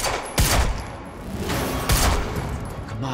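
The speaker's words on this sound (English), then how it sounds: "You heard the gunfire." Gunfire erupts in the video game Quantum Break: two loud, sharp bursts about a second and a half apart, each followed by a booming rumble, under a dense roar of action.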